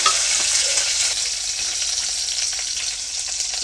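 Garlic and curry leaves fry in hot oil with mustard seeds, giving a loud, dense, continuous sizzle and crackle close up, alone and steady throughout.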